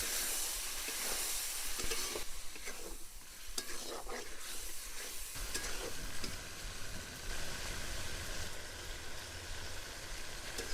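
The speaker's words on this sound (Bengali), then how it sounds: "এবার মশলাগুলা দিয়ে ভালো করে রসুনগুলা কষিয়ে নিব।" Whole garlic cloves fry with spices in a pan, a loud, steady sizzle running throughout with stirring scrapes, and the hiss swells and settles without any talk.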